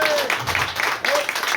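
An audience at a literary conference on women's crime fiction breaks into steady, dense applause, a continuous wash of clapping with a voice faintly underneath.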